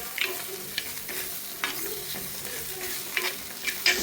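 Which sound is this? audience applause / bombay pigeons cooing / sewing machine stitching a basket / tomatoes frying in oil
tomatoes frying in oil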